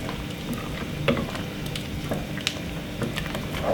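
A spoon stirs strong cheddar cheese into a macaroni sauce, soft wet squelching and scraping with a quiet bubbling sizzle and a few sharper clicks from the pan.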